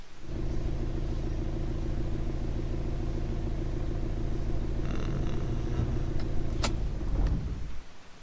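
Car engine in the video game This Is the Police: a loud, steady low rumble holds for several seconds, then ends with a brief clunk and a sharp high ping as it cuts off.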